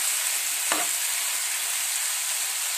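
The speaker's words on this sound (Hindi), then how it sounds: "अब इनको अच्छे से मसालों के साथ तरोई को भून लेंगे" Ridge gourd pieces being stir-fried with cooked spices in a pan give a continuous even sizzle, broken once by a single scrape of the spatula near the start.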